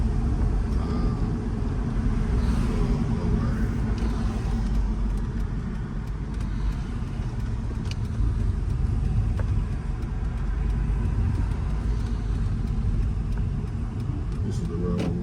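A Mercedes W211 E350 sedan drives gently along a road on new wheels, heard from inside as a steady low engine and tyre rumble with continuous road noise and no speech.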